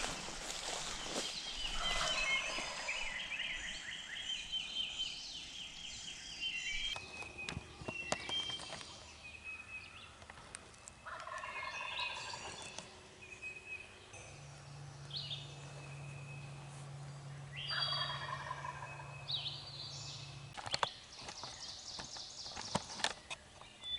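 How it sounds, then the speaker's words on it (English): Wild turkey gobbling in spring woods, several rattling gobble bursts at a distance, spaced apart and separated by quieter stretches with some rustling and a low hum, no talk. "He's gobbling. This is the turkey we was on."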